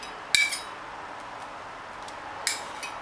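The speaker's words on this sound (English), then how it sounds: "Just scrape it." A spoon scrapes margarine out of a measuring cup, making two sharp metallic clinks with softer scraping taps between them, close and fairly quiet.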